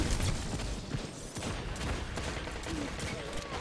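Rapid gunfire bursts in a Destiny 2 Trials of Osiris match, with clustered shots crackling in quick succession at the start and sporadic firing continuing over a busy game background.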